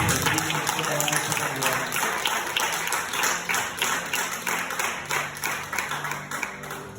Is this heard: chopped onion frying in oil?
no